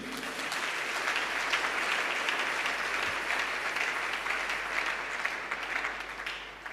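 A church congregation claps for Jesus, a dense, sustained round of applause that swells early and keeps going steadily before easing slightly at the end.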